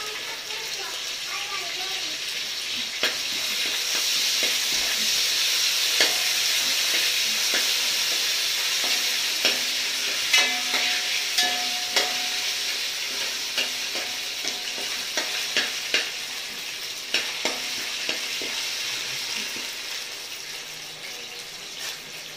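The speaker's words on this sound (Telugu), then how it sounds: "వేసుకొని కొద్దిసేపు వేయించుకోవాలి" Ginger garlic paste and mint fry in a pan for a chicken dum biryani, giving a steady close sizzle with soft stirring scrapes and small clicks throughout, with a voice talking briefly in the background.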